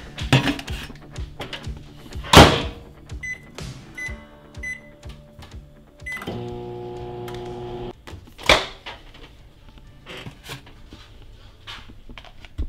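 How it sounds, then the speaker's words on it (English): A microwave oven hums steadily for a couple of seconds, surrounded by kitchen clatter, clicks and a door-like thump nearby. "we're gonna throw this bad boy in the microwave for about a minute"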